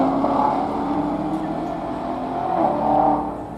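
A passing car that sounds like a Corvette Z06, its engine note swelling and echoing off nearby warehouses, a steady loud rush that builds again near the end.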